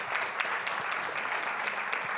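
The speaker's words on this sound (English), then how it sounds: "Let's give a big applause" An audience at a UCLG local-government conference applauds a mayor as she is welcomed, a continuous mid-level patter of many hands clapping with a few sharper individual claps.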